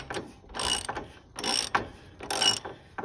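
Ratchet wrench tightening a fastener during a Cub Cadet mower engine swap, several bursts of rapid close clicking separated by short pauses, no voices.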